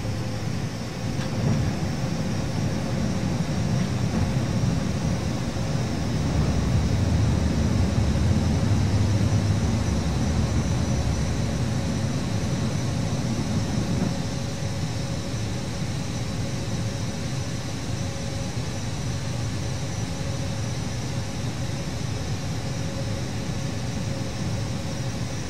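Avro RJ100 jet in Microsoft Flight Simulator X takes off, giving a steady, loud broadband engine roar with a constant hum that swells slightly partway through and holds without talk.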